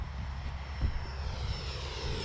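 An F-16 fighter jet flies past near a runway, producing a steady, moderately loud engine roar that holds throughout with no talk over it.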